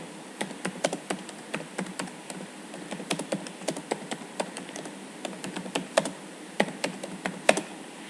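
Computer keyboard typing: a steady run of crisp, separate key clicks with irregular rhythm, close and fairly clear over a faint background hiss, with no talking.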